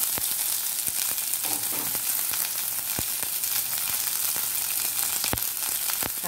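Onion and ginger fry in a pan with a loud, continuous close-up sizzle, broken by occasional sharp clicks of stirring.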